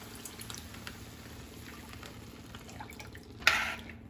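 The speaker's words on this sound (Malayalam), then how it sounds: "ഞാൻ അര ലിറ്ററിൻ്റെ ഒരു പാക്കറ്റ് പാലാണ് ഒഴിക്കുന്നത്" Milk from a half-litre packet is poured into a pan of carrot halwa. A faint, steady trickle runs throughout, with a brief louder splash near the end.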